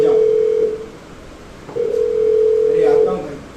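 A telephone rings onstage during a live Hindi theatre play: two long, steady electronic ring tones separated by a short pause, with room murmur behind.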